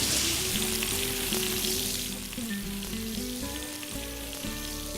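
Onions sweat gently in fat in a pan with egg nearby, giving a soft, steady sizzle throughout, lightly stirred, with a low hum and faint tonal music running underneath.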